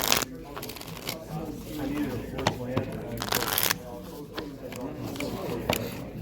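A deck of Alpha Clash trading cards shuffled by hand at a gameplay table, bursts of riffling and card slaps repeating over several seconds alongside ongoing conversation.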